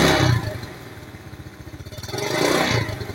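A motorcycle engine with a weak charging fault is revved in two bursts, rising and falling with a rough mid-pitched idle between them, close by and with no talk.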